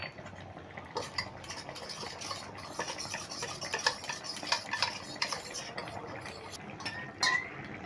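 Spoon stirring a cornflour slurry for a vegetarian chilli soybean gravy, with steady scraping and clinking against the bowl throughout and a few sharper taps, close and fairly quiet, no talking.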